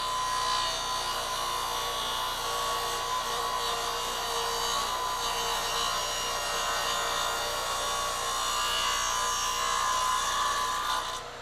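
A radial arm saw cuts a deep kerf through wood in one long steady high whine, loud and close, with a raspy edge that swells slightly toward the end before tapering off.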